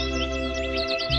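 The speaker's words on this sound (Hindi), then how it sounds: "दूर से आती है चिड़िया की आवाज।" Quick repeated bird chirps over a steady droning background in a Doraemon cartoon, a short bright twittering that sounds somewhat distant.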